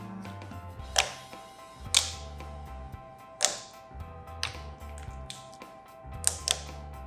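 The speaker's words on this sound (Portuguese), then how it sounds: "A minha textura favorita de slime é a glossy, que é que a gente tem um clique muito alto" Glossy slime stretched and pressed, giving sharp, loud clicks and snaps at irregular intervals of about a second, heard close with quiet gaps between.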